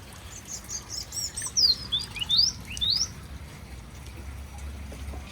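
A few quick bird chirps and twittering calls over a low outdoor rumble, moderately faint, with no talking.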